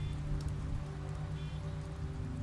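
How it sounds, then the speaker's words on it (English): Rain falls steadily in a scene from the video game The Wolf Among Us, a faint, even patter over a low background hum with no voices. "You must like rain"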